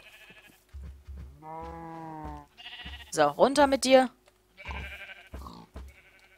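Cows in the Minecraft video game give several drawn-out, nasal lowing calls, close by, between short remarks from a German-speaking man.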